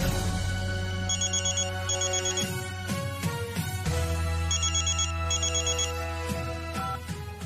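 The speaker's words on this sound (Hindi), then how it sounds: "कॉल लगाओ, हप्पू को कॉल लगाओ।" A telephone ringtone plays loud and close while a call to Happu is being placed, a looping electronic tune with repeating beeping phrases that carries on steadily for several seconds, with no one talking.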